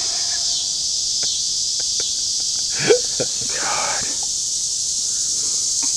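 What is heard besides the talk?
insects chirping in the woods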